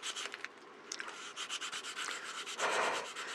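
Close, rhythmic scratchy rubbing of hand sanding, quick back-and-forth strokes repeating steadily, with one longer harsher stroke near the end.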